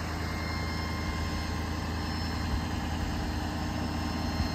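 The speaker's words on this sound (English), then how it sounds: "Engine sounds good. Starts right up." Steady low rumble of a 2016 Ford F-550 diesel bucket boom truck engine idling nearby, even and continuous, with no talking.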